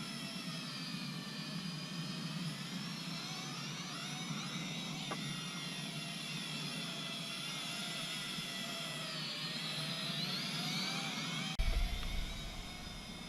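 A Syma X5A-1 RC quadcopter drone flies nearby, its small rotors making a steady high buzzing whine that rises and falls slightly as it moves, ending with a brief thump near the end.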